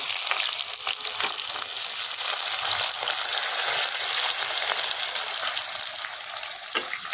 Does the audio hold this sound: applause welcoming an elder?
no